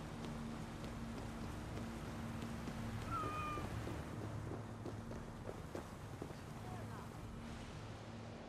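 A cat in the video game Assassin's Creed Valhalla gives a couple of brief, faint meows over steady outdoor ambience with wind and soft footsteps.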